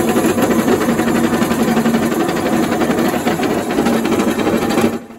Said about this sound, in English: The bandsaw started shaking so violently that it broke the blade tensioning mechanism.